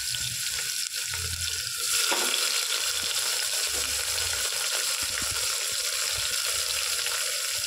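Whole garam masala frying in hot oil in a pressure cooker after potatoes were fried, a continuous close sizzle swelling louder partway through with low handling knocks underneath.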